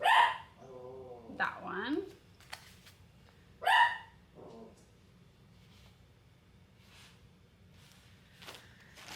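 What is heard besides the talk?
dog barking at the front door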